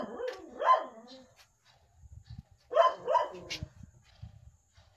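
A dog barking at an abandoned 100-year-old ancestral house, two short bursts of loud nearby barks a couple of seconds apart with faint low footsteps or rustling between.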